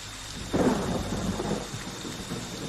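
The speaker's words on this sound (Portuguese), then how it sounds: "Tá chovendo dentro da varanda, que bacana." Video game rain falls steadily with a deep rumble of thunder rolling in, heavy and close, no voices, in Friday the 13th on Xbox One.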